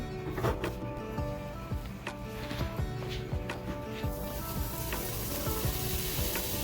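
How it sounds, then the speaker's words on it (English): Steady, crackling sizzle of sausage frying in a hot pan over a medium flame, with continuous spitting and popping close by and no voices. "I love the sound of sizzling too."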